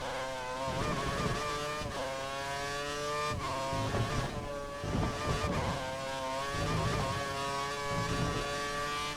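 F1 car engine in the racing game F1 2013 at the Bahrain GP, a steady high-pitched whine that rises and drops with each short-shifted gear change, continuous and fairly faint throughout.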